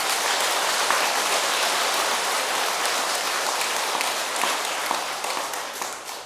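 An audience applauds at a Buddhist monk's lecture, with dense, steady clapping filling the whole stretch at a fairly even loudness.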